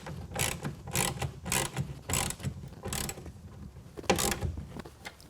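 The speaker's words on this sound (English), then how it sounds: "snug it up with a 1/2 inch wrench or ratchet" A ratchet wrench clicks in repeated bursts while tightening the clamp on a TruXedo Sentry CT tonneau cover rail on a 2022 Toyota Tundra, with close, moderately quiet metallic pawl clicks and brief pauses between strokes.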